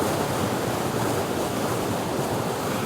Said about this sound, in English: The river's picking up now